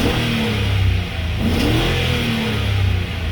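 A 2003 GMC Sierra 2500 pickup engine revs up loudly twice, rising and falling in pitch with a steady low rumble, heard close with no talking.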